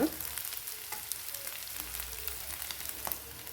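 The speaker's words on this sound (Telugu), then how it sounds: "ఒక 2 మినిట్స్ వీటిని కూడా వేగనిద్దాం." Steady close sizzling of ingredients frying in a pan for a taro and dried prawn curry, with light crackles and occasional stirring scrapes, no voices.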